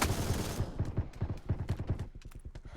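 Sustained automatic machine gun fire in the mobile battle royale game New State Mobile, a rapid, steady stream of sharp shots loud and close, with no one speaking over the burst.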